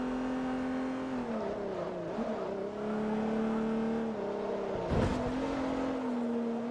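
A racing car in Forza Motorsport 3 holds a loud, steady engine drone that dips and climbs through gear changes, with a sharp drop and recovery near the end.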